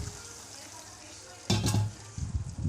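Boiled mutton liver is dropped into a hot pan with onions and sautéed, a sudden loud sizzle and clatter after a low hiss, followed by stirring scrapes and continued frying noise.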